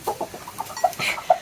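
Chickens cluck in cold weather, a string of short, nasal calls overlapping at a close distance with no talking.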